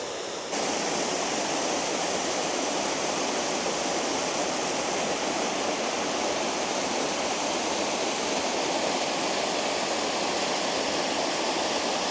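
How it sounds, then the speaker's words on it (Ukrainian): Small mountain waterfall in the Carpathians near Bukovel roars as a steady, dense rush of falling water heard close up, loud and unbroken throughout. "ось тут ми потрапляємо на перший невеличкий водоспадик"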